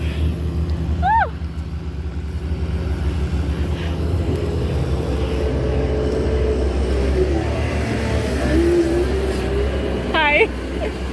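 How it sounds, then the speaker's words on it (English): A tractor works at a housing development construction site during excavation, giving a steady low engine drone throughout, with a voice talking over it and a few high chirps. "Watch out, tractor come."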